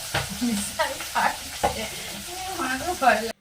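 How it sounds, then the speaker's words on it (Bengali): Fish fries in hot oil in a pan, popping and sizzling loudly in close bursts while being stirred, with a few sharp spatters over roughly three seconds. "মাছ না খুব ফাটছে, আমার দেখে বুঝতে পারছো, আমি দাঁড়িয়ে দাঁড়িয়ে মাছ ভাজছি"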